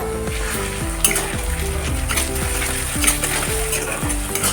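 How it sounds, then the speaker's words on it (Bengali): Onion and garlic paste fried and stirred in a pan for a snail curry. A loud, steady sizzle runs throughout, with rhythmic scraping stirs and utensil knocks close up, and no one speaks. "রসুন বাটা দেওয়ার পর এইভাবে করে মশলাটাকে একটু নাড়ি চাড়িয়ে নাড়িয়ে চাড়িয়ে এইভাবে করে একটু কষিয়ে নেবো"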